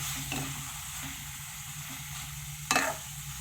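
Pieces of liver (kaleji) sizzle steadily in a hot pan, with a scraping stir near the start and a louder stroke toward the end; no one speaks.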